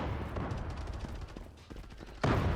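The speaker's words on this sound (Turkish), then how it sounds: "FN Fal Pro artı 6 gayet iyi bir silah arkadaşlar" FN FAL Pro rifle fire in the online shooter Zula, a dense, muffled run of gunshot bursts through the first part, thinning out, then a louder heavy blast near the end.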